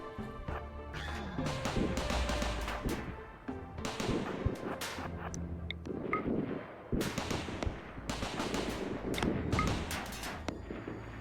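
Defensive turrets fire in RimWorld as a raid attacks a shielded position, producing rapid bursts of sharp gunshots and impacts, loud and irregular, with brief gaps between volleys.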